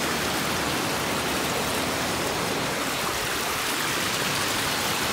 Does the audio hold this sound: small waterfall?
yes